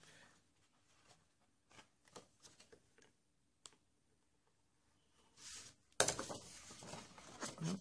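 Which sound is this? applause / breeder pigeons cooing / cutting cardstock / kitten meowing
cutting cardstock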